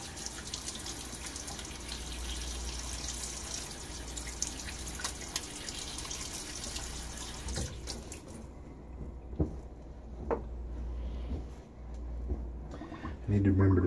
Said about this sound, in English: Wow, I need to rinse a little bit more.